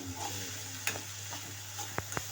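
Onions with salt sautéing in a pan, a steady soft sizzle running throughout with a few sharp scrapes and taps of a stirring spoon near the end, no voices.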